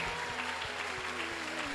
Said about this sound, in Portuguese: E vamos aplaudir o nosso Deus.